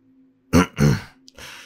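A voice makes two short, dry coughs clearing the throat, close and distinct, followed by a softer exhale.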